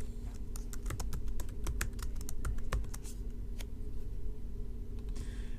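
Rapid keystrokes clatter on a computer keyboard as text is typed in irregular bursts, close and distinct, then thin out and stop; no voices.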